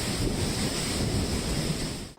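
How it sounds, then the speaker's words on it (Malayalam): Strong wind in a dense Miyawaki forest during a monsoon storm makes a continuous loud roar and rush. The broadband noise is steady and close, with no voices. "നിങ്ങൾ കാണുന്നത് മിയാവാക്കി വനത്തിൽ കാറ്റ് വീശുന്നതാണ്"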